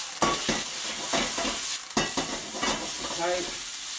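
Noodles fry in a hot wok, crackling and sizzling loudly with repeated stirring and tossing strokes that come as sharp bursts, no talking.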